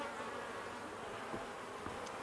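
Honey bees swarm and buzz steadily around an opened hive, a continuous close drone with a few sharper passes near the listener.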